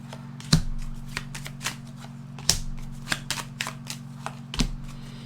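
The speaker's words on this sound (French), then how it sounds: "Je vais mettre 3 cartes dessus." Tarot and oracle cards are set down one after another onto a card, giving soft papery slaps and flicks over a steady low hum, with three stronger placements standing out among quieter shuffling touches.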